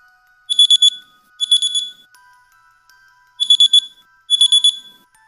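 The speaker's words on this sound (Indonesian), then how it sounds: "Dengar suara nada dering yang sangat nyaring." A loud, shrill electronic phone ringtone plays as a sound effect. It comes in four bursts of rapid high trilling beeps, two pairs separated by a pause, close and piercing with no voices.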